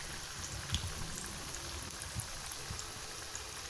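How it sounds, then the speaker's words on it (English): Cabbage vada patties frying in hot oil, a steady dense sizzle with faint crackles and pops throughout, fairly quiet with no voices. "Allow the patties to fry."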